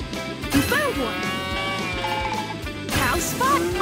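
A cow moos in the PAW Patrol Rescue World mobile game, with a couple of cartoonish calls over bright game music and effects; a voice speaks over part of it.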